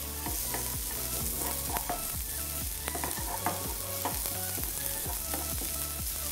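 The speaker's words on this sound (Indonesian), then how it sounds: "Yang pertama adalah tumis bawang putih. hingga harum." Garlic sautés in a pan with a constant loud sizzle and frying crackle, while a utensil stirs and scrapes in a repeated rhythm throughout.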